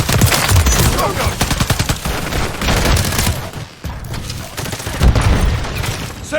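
Dense, continuous gunfire and booming blasts in Modern Warfare 3 War Mode, loud bursts of rapid automatic fire with heavy impacts rolling on throughout, briefly dipping midway before surging again.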